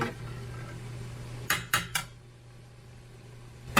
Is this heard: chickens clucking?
no